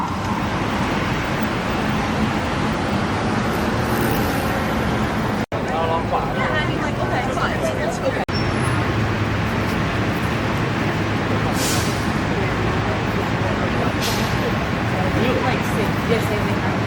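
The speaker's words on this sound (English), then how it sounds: "Traffic is building up at West Street due to the partial closure." Road traffic on West Street in Manhattan builds up during a partial closure. A continuous roar of engines and road noise carries on with passing vehicles and a brief hiss, and voices talk over it.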